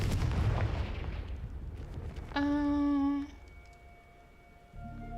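In Hogwarts Legacy, the Confringo fire spell goes off with a heavy rumbling blast, followed by a bright ringing magical tone for about a second, then a low lingering hum and a fresh rumble.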